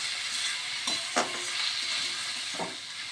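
Bottle gourd frying in a pan gives a steady sizzle while a spoon or spatula stirs it, with a few short scraping strokes standing out. No one speaks.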